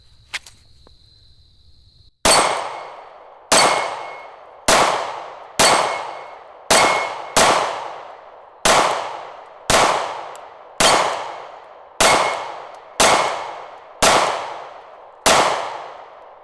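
Twelve shots from a SIG P365 9mm pistol, fired one at a time about a second apart, each with a sharp crack and a ringing steel target. The shots are loud and close, with no talk between them.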